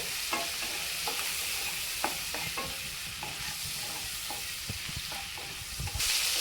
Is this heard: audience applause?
no